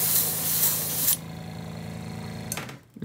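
Paint sprays in a short hissing burst onto a bluegill-pattern crankbait lure, then stops, leaving faint handling sounds.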